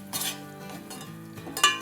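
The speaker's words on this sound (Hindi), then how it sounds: "तो आधा कप ऑयल में आधा कप सूजी हम भून रहे हैं।" Half a cup of semolina roasting in half a cup of oil over a low flame, soft scraping of a spoon against the pan with faint sizzling, brief and quiet.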